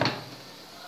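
A lid is set onto a cooking pan of cabbage, a single close clack at the start that quickly fades into a soft background hiss.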